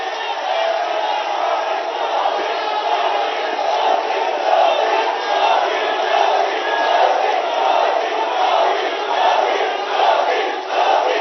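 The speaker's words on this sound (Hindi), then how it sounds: "जोरदार तालियों के बीच।" A large crowd roars and cheers loudly as the Prime Minister is welcomed at the inauguration of a cancer hospital, a dense, sustained wall of voices and clapping with no pauses.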